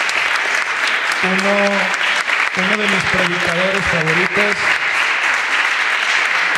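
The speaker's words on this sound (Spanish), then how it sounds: "vamos a darle un aplauso a este hombre de Dios" A church congregation claps to welcome a visiting preacher at a Spanish-language service, steady applause running throughout while someone speaks over it through a microphone.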